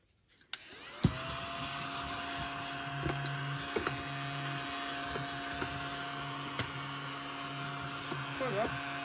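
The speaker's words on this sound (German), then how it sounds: "Guck mal, ich habe dafür einen Staubsauger." A vacuum cleaner motor spins up and then runs in a steady, close, droning whir with a faint whine for several seconds, with a few small knocks and clicks over it.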